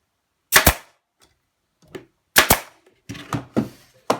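Nail gun driving nails into a cedar nesting planter box, heard as sharp, loud pneumatic bangs: a quick double shot, two faint taps, another double shot, then a run of several closer-spaced shots, alone with no talk.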